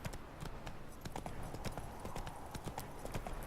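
Hooves of the horse Roach clip-clopping at a steady trot in The Witcher 3, a continuous rhythmic patter heard faintly under game ambience.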